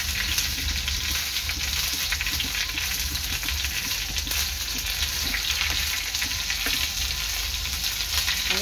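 Chilies and garlic frying in a pan, a dense, continuous close sizzle with faint stirring clicks throughout.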